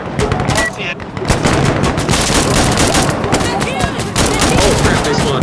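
Dense gunfire in the tactical shooter Insurgency Sandstorm, loud rapid automatic bursts and single shots crackling continuously throughout, with muffled player voices mixed under the shooting.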